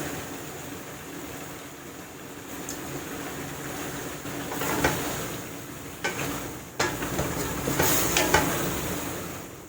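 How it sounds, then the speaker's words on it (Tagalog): Shrimp go into a frying pan with squash, jackfruit, beans and long chili peppers, giving a soft sizzle with a few brief clatters and stirring scrapes, moderately quiet and steady. "ilalagay na natin yung hipon"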